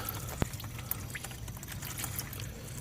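Thin, watery engine oil drains out of a Ford F-150 with the 4.6 engine, pouring in a steady close trickle with a single sharp knock near the start.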